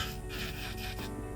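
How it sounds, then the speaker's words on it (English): A sanding band buffs the surface of an acrylic nail with a continuous soft rubbing rasp, in short repeated strokes, close and fairly quiet. "I'm gonna buff it with this sanding band"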